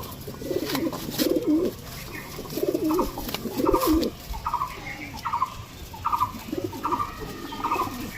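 A young show-purpose Chandakhani pigeon coos in a steady series of rolling calls, fairly close, with other cooing mixed into the background throughout.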